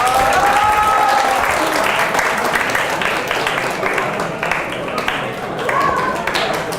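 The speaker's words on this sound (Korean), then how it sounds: "어느 부분에 박수가 나온 거야?" Steady applause fills a university physics lecture hall, dense clapping from students sustained throughout, with some voices and murmurs mixed in underneath.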